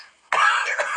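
A sharp cough and throat clearing burst out loud and close after a short faint lead-in, holding harsh and continuous to the end.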